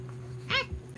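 A pet dog gives one short, whiny bark-whimper at close range, then a brief low snort or grumble in a quiet room.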